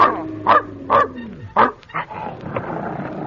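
A dog barks several times in quick succession, sharp and close, with whimpering yips between the barks and a slight room echo, in an old radio drama.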